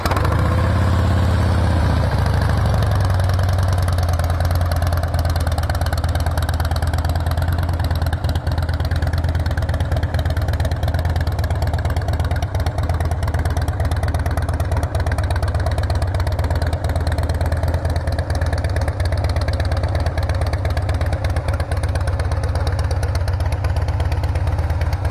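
A Harley Davidson Softail Custom FXSTC, a 105th anniversary model with aftermarket mufflers, idles steadily with a deep, loud, continuous rumble and faint mechanical clatter, close and uninterrupted for the whole stretch.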